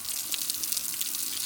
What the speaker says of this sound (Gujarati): એને પાણીથી નવરાવી નાખીએ